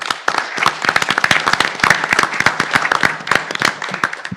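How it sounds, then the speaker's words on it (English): A small audience at a city commission meeting claps, with distinct sharp individual claps rapidly overlapping in a sparse, crisp pattern rather than a dense roar, steady throughout. "let's give them a big round of applause"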